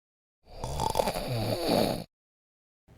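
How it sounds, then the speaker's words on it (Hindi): Snoring from a person in deep sleep: a single rough, rasping snore of about a second and a half, fairly loud and close, followed by silence. "ये तो खर्राटों की आवाज़ है।"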